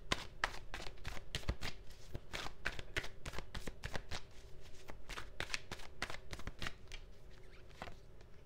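Crisp, rapid riffling and slapping of a tarot deck being shuffled and cards laid down, a dense run of close, sharp flicks continuing steadily without speech.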